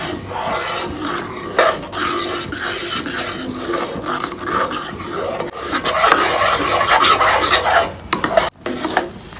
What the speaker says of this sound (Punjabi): ਇਹਨੂੰ ਚੰਗੀ ਤਰ੍ਹਾਂ ਹਿਲਾਈ ਜਾਵਾਂਗੇ ਪੂਰਾ ਗਾੜਾ ਕਰ ਲਾਂਗੇ ਜੀ